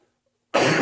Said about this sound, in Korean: 제가 알레르기 시즌이라 그냥 기침이 나오는 거 용서하세요